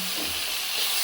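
Two chopped tomatoes sizzle as they are sautéed and stirred in a pan, a steady close frying hiss with soft scraping movement throughout.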